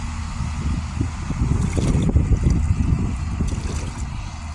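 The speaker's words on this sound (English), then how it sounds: "It's so windy" Steady wind rushing and buffeting the microphone, a low broadband roar that swells in the middle and holds throughout.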